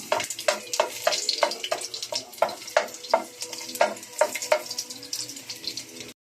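Onion and garlic sauteing in a pan, a soft oil sizzle broken by regular clanking scrapes of a utensil stirring, close and fairly quiet.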